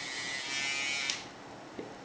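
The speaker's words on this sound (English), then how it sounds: "This is a nose hair trimmer." An electric nose hair trimmer buzzes steadily at close range, its tone shifting slightly midway, with a couple of small clicks and no talking.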